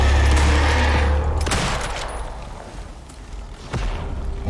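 Loud burst of rapid automatic gunfire in the Icarus survival game, a dense volley in the first second and a half that trails into rumbling echoes, with another sharp shot near the end.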